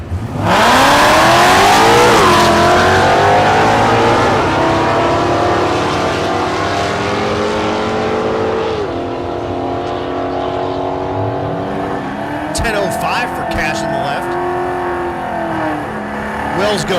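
Bill Cash's Mustang race car at Thunder Valley drag strip in Noble, Oklahoma, roaring loud and close as it launches and accelerates, its engine note rising through several gear changes while a track announcer talks over it.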